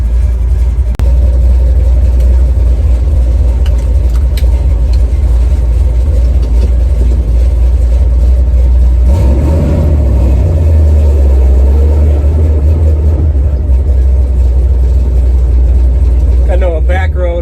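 A warmed-up 1970 Chevy Nova engine idling with a deep, steady rumble, loud and close throughout, with a slight shift in tone partway through.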